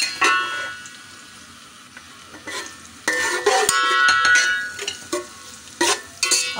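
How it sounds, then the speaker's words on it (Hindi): Onions frying in oil in a cooking pot for pulao biryani, with a bright crackling sizzle and bursts of louder scraping as a spoon stirs them, close up and without speech. "और प्याज को बस थोड़ा सा चलाना है, ज़्यादा नहीं।"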